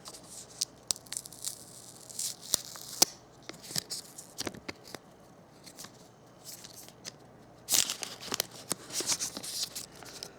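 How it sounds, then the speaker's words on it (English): Crinkly plastic wrap is torn and peeled off a Pixel Buds earbuds box in close, irregular bursts of crackling and rustling, with a louder, denser stretch of crinkling near the end. "So if we go ahead and unwrap the plastic, I'll let you guys hear what that sounds like"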